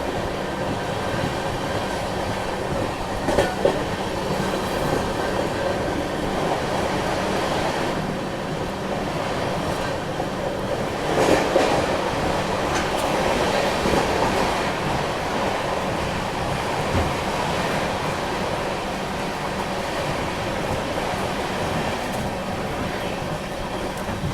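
Steady rumbling roar of a train running at speed alongside another train, with rushing wind noise and occasional clatter throughout.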